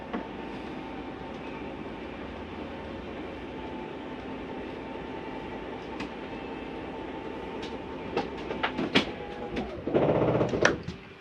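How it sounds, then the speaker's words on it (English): A steady mechanical hum and whirr of a Flagstaff 8528BHSS RV slide-out motor running, ending in a few sharp clunks and a louder grinding burst as the slide stops. "That's the slide telling itself not to go any further."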